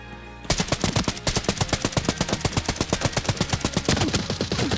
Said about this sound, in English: I thought it was a bot and I just freaking mag dumped